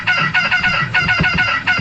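A chicken clucks in a quick series of short, nasal calls, close and fairly loud, repeating in bursts.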